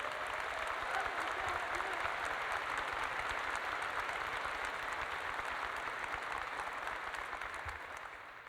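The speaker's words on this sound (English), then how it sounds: "can we give her a round of applause and a best wishes?" Sustained audience applause at a university spring commencement ceremony, a dense steady wash of many hands clapping that holds for several seconds and fades slightly at the end.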